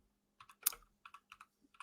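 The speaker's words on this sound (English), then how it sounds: "and what are we typing?" Typing on a computer keyboard: a quiet, irregular patter of individual key clicks in short bursts, close but faint, without any talking.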